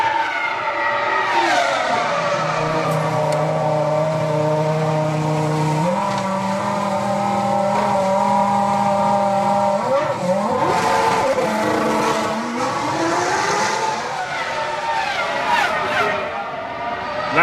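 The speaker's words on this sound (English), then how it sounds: "It's Rubens Barrichello, the race leader, pitting on lap 25. Here he comes" A 2005 Ferrari Formula 1 car pits during the Australian Grand Prix in Melbourne: a loud, close engine note holds a steady drone, shifts pitch around six and ten seconds, then rises and falls as the car moves through the pit lane, with no talk.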